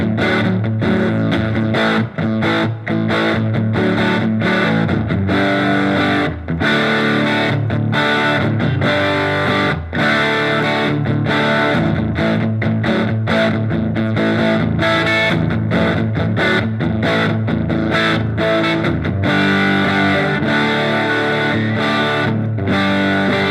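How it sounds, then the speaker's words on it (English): A Les Paul electric guitar played through a Fender Mustang LT25 amp on its Excelsior setting with spring reverb gives a loud, heavily distorted tone, chords and riffs chugging steadily for over twenty seconds with no talking. "here is a Les Paul with the Excelsior amp"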